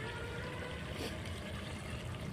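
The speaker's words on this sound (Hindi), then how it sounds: "और इसमें हम डाल देते हैं पानी" Water is poured into a pan of village-style chicken curry, a steady close splashing trickle into the oily gravy with no one talking.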